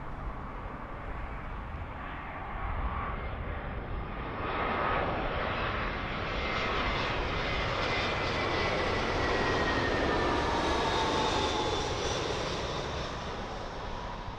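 A British Airways A320 arriving from Naples lands on runway 27L at London Heathrow, its broad engine roar swelling steadily and holding loud for several seconds before easing slightly, heard fairly close with no talk over it.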